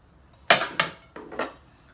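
Aluminum campfire pots and pans clank together as they are handled, four sharp metallic clinks in two quick pairs, close and alone.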